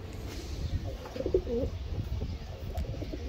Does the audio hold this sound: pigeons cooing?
yes